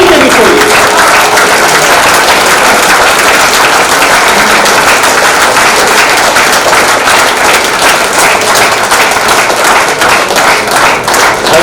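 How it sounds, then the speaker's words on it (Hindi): A packed hall at an Aggarwal community convention keeps up loud, sustained applause in honour of Maharaja Agrasen, the many claps falling into a rhythmic beat toward the end, with hardly any talk. "ये जो ताली लगा रहे हैं ना, महाराजा अग्रसेन जी की पूजा है, जोर से कीजिए।"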